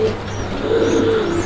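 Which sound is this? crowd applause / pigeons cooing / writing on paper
pigeons cooing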